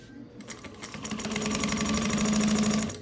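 A Juki 1541s sewing machine stitches quilting cotton with fused fleece backing, starting up into a fast, rapid chatter of needle strokes that holds steady before trailing off, close and alone.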